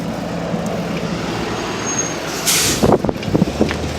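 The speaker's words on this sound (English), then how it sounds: "There's a truck going by." A truck rumbles past nearby with a steady roadway drone, then a sharp hiss of air-brake release and a few clunks as it goes by.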